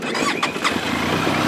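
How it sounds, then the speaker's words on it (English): A Benelli TRK 502X adventure motorcycle engine starting up, a short starter whir catching into a loud, close, rough idle that settles and runs steadily. "Let's start the engine."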